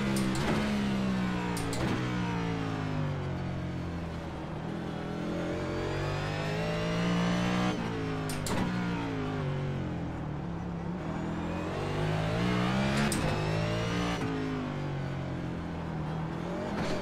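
A NASCAR stock car engine roars and revs steadily in the iRacing simulator on the Long Beach circuit, loud and close, its pitch climbing and dropping through gear changes with brief shift cracks and wheelspin.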